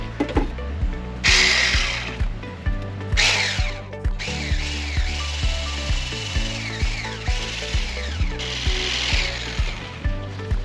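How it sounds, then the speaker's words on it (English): Egg yolks are whisked in a bowl inside a small caravan, with a steady run of rhythmic clicks and scrapes repeating about twice a second, close and fairly loud. "Alright, now I've got to whisk the yolks."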